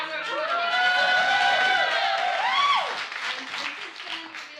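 Applause and cheering from an audience at a spoken word poetry anniversary night in a London nightclub, with clapping and shouts beneath a loud voice talking over the crowd.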